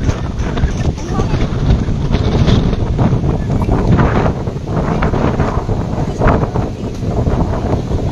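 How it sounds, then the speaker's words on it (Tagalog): Loud, constant sea wind buffeting the microphone on a beach in Boracay, a rough roar that dominates throughout, with faint voices barely showing beneath it. "Ang hangin."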